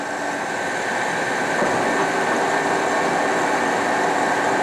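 A 60-inch Webster & Bennett vertical turning and boring machine runs steadily, giving off a loud, constant mechanical drone and whir with a faint tonal hum and no pauses, with no one talking.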